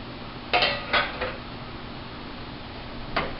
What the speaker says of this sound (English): So now she will take the cupcakes out of the oven.